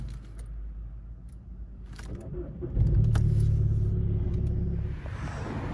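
A 2011 VW Golf Mk6 2.0 TDI diesel engine cranks slowly for a moment before catching and settling into a low, rumbling idle, with faint key and cabin noises beforehand.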